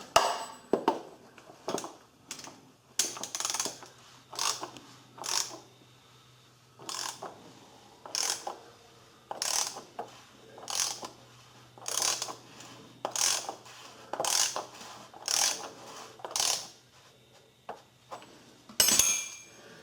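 Ratchet turning a 36 mm socket on a VW Jetta VR6 engine, repeated bursts of rapid clicking pawl strokes in an irregular rhythm with brief pauses between, close and fairly quiet with no talk.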